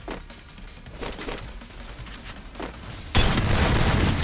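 Shotgun fire in the video game Free Fire, with a few dull, muffled shots followed by one loud, sharp blast that rings out with a sustained noisy tail.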